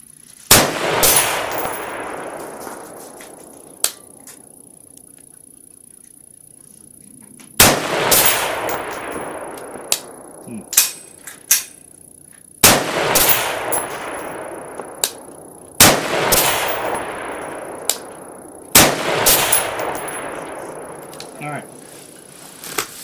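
Five loud rifle shots at an outdoor shooting range, each a sharp crack with a long decaying echo, spaced a few seconds apart, with small clicks and handling noises between shots.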